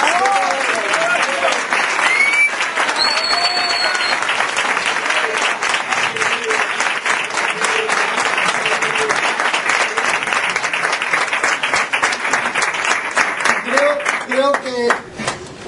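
A crowd gives sustained, lively applause at the opening of a restaurant in Antequera, with cheers and voices mixed in and the clapping continuing strongly to the end.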